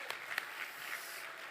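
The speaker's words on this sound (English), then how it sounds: "Yes, let's clap." Audience at the Spirit of Cosmo Pancake Breakfast gives a brief round of clapping, faint and fairly steady, with a couple of sharper individual claps standing out near the start.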